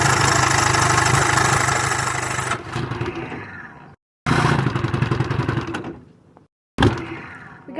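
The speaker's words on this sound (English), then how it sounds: "The motor's lying to you, telling you it wants to start," Vintage outboard motor sputters briefly and then dies, with cranking bursts that cut out to silence between repeated attempts.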